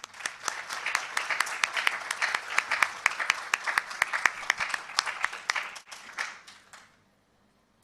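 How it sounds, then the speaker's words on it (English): Audience applause at a gathering where people stand together: dense, loud, steady clapping for about six seconds, then tapering quickly to silence. "this is something that deserves a round of applause from all of us"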